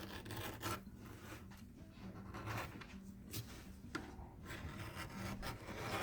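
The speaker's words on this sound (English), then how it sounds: "I'm just going to come through and bevel my edges on all sides, front and back." An edge beveler scrapes along the edges of a leather crown in continuous close, soft rasping strokes with a steady rhythm and occasional small taps.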